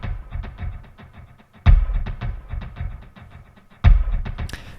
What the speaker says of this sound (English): And first thing I have are these little kicks at the beginning.